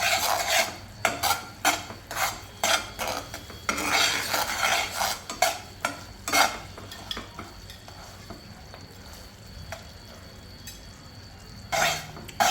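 Makhana being stirred with melting jaggery and ghee in a pan, a spoon scraping and clinking against the metal in repeated bursts, loud and close, with quieter pauses toward the end.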